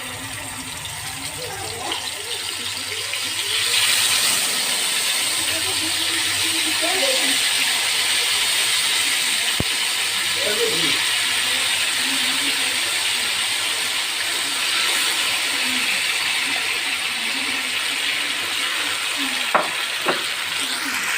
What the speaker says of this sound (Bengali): মাংসগুলোকে কিছুটা করে কিছুটা ভেজে নেব